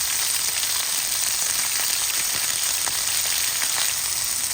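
Garlic, onion and ginger sautéing with chicken in a pan for adobong sitaw, a loud, dense, even sizzle that holds steady from start to finish, with no talking.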